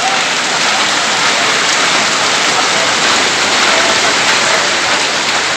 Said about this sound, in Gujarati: જોવો ખાલી વરસાદ, વીજળી કડાકા ને ભડાકા હાથે હો ભાઈ.